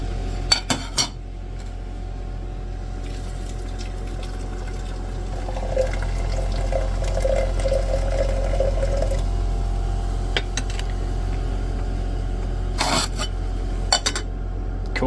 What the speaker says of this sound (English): I'm gonna pour some of this out.